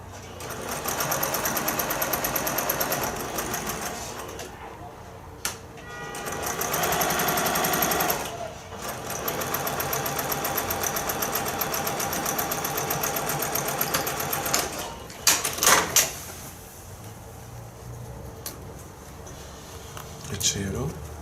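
A domestic sewing machine stitches fabric from edge to edge in a quilt block, running in steady mechanical bursts with short pauses between, close and moderately loud, and a faint voice appears in places.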